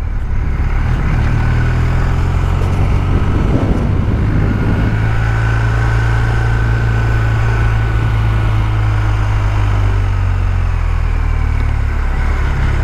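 A 2024 BMW R 1250 R roadster's boxer twin engine runs close and loud, a steady low rumble that holds an even drone with a brief rise midway and no talking.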